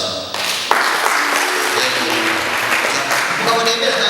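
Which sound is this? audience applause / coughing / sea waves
audience applause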